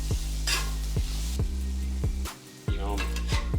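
A metal spatula chops burger meat and cheese on a hot griddle, sharp rhythmic scraping clacks roughly every half second over a steady sizzle, close and loud.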